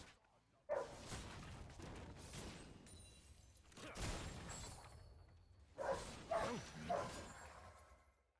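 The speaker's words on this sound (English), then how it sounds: "The dog going crazy." A dog barks in loud repeated bursts nearby, a few spaced barks followed by a quick cluster, over quieter background sound.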